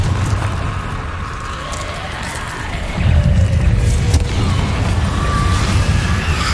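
Confringo blasting spell bursting in Hogwarts Legacy, a loud dense rumbling blast that thickens midway and rolls on through a busy game battle; no talking.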